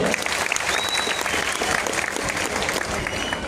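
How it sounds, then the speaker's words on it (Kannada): Audience at a film trailer launch event breaks into loud, sustained applause, dense clapping filling the hall continuously from start to finish with a faint murmur of voices beneath. "ದಯವಿಟ್ಟು ಒಂದ್ಸತಿ ಜೋರಾದ ಚಪ್ಪಾಳೆ"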